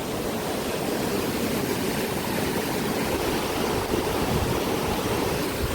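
After days of heavy monsoon rain, rainwater rushes and gurgles along a channel near a farm field, making a dense, loud, unbroken roar of flowing water with no voices.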